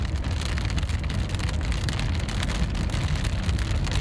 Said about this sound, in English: for now just dealing with some heavy rain, some hail, and some strong winds moving through Johnson County here